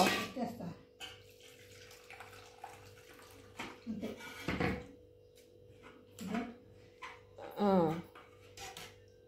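Water gushes and splashes into a vessel in several bursts, with voices and brief clatter around it.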